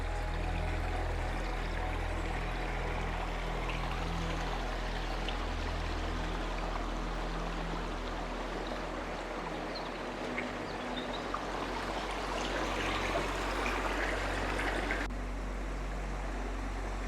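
A waterfall pours down at Lago di Braies in the Dolomites, giving a continuous broad rush of falling water with a low steady rumble beneath, even and close throughout.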